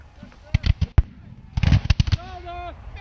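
Musket volley fired by reenactors at a Battle of Monmouth reenactment, heard as sharp separate cracks, first a few spaced shots and then a ragged cluster, with shouted commands and voices around them.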